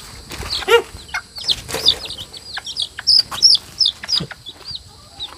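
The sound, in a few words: chickens clucking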